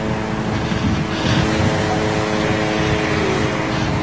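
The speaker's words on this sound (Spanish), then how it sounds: "Pueden escuchar los motores de los aviones sin pilotos" Engines of pilotless drone aircraft over Gaza make a loud, steady droning hum with a rough low rumble, continuous and unbroken throughout.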